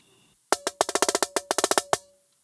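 A crisp snare drum plays a quick paradiddle-diddle sticking pattern of about a dozen sharp strokes mixing singles and doubles, close and alone, ending on an accented hit.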